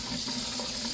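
Tap water gushes steadily into a pot of green beans, a loud, close, continuous rushing splash with no talking.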